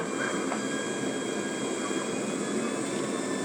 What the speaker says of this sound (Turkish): Helikopterler geldi.